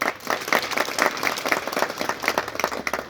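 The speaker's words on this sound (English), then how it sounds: "Please, can we give him a clap?" An audience claps for a man being honoured, with distinct rhythmic handclaps close by and a little crowd murmur mixed in.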